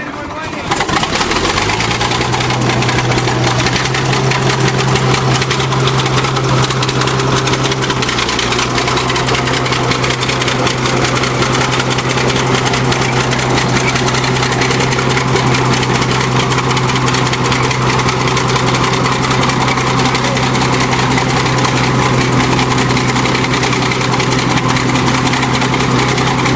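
Bulldozer engine running hard as it climbs a steep hill, a loud, steady, low droning roar that holds at one pitch throughout, close by and continuous, with people talking faintly under it.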